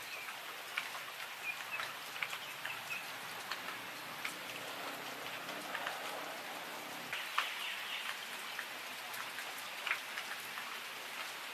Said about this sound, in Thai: ฝนตกปล่อยๆ ก็เย็นดี